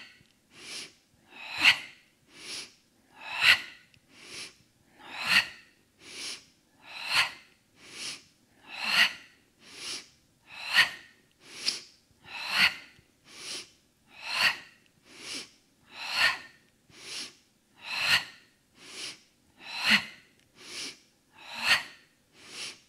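Rhythmic, forceful breathing during a Pilates mat exercise for hips and abs, about twenty steady breath cycles, close and audible with no talk.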